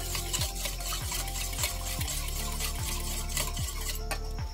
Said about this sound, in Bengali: ভালো করে আমি ফেটে নেব,